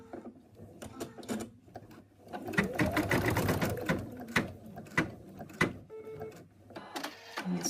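An embroidery sewing machine stitches in a short mechanical run of rapid needle strokes, with scattered clicks and taps before and after, close and fairly quiet.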